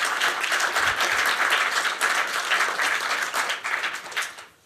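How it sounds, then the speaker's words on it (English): Sustained applause from a keynote panel audience, a dense wash of many clapping hands at steady loudness, fading out at the end. "Let's give him a round of applause for that outstanding work."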